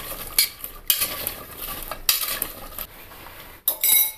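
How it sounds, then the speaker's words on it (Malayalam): A spoon stirs a pot of potato and vegetable curry, giving several sharp metallic scrapes and clinks against the pot between quieter mixing sounds. "എല്ലാം കൂടെ ഒന്ന് മിക്സ് ചെയ്യാം."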